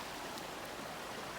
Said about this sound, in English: We're here at this water crossing.